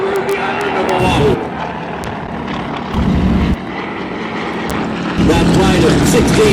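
Vintage propeller warplanes fly over an airshow in a reenactment of the Pearl Harbor attack, a steady loud drone of prop engines with passes swelling near and fading, joined by a voice on the public address.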